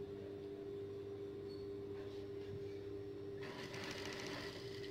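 A sewing machine runs steadily while topstitching the collar of a batik tunic, giving a continuous close mechanical hum with a brighter burst of stitching near the end.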